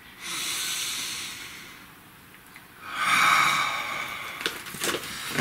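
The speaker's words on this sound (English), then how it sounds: "Take a nice deep breath." A single slow deep breath, a long airy inhale followed after a pause by a fuller, louder exhale, close and hushed with no talking.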